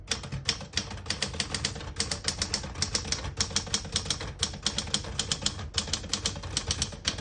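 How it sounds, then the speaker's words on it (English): Rapid, uneven clacking of keys on a 1980s Smith-Corona Deville Deluxe vintage portable typewriter, struck in quick bursts with brief pauses, close and fairly steady throughout, no voices. "Beautiful typing machine."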